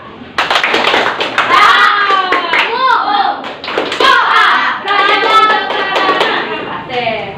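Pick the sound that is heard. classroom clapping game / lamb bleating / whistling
classroom clapping game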